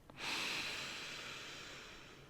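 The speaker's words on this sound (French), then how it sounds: "Je t'en prie, prends une grande inspiration." A single slow, deep breath is drawn and released in a close, soft ASMR setting, a quiet airy rush that swells quickly and then fades gradually, with no speech.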